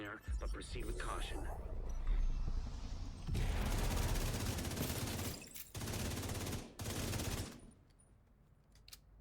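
Pistol fire at enemies in the video game The Division 2: several close, rapid bursts of shots separated by short gaps, over quieter game ambience and a talking voice.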